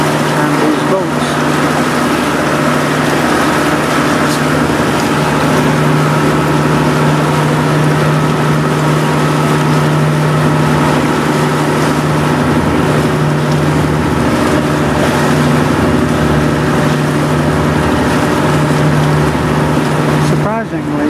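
Loud, steady drone of a motorboat engine off Palawan Island, Philippines, with a constant low hum and wash of water and wind, running without pause throughout.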